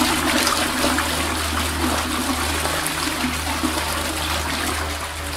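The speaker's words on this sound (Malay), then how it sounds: "dia terdengar bunyi pam tandas dan bunyi orang membuka bilik air" A toilet flushes in a haunted hospital bathroom: a steady, loud rush of running water over a low, constant hum that lasts throughout, with no voices.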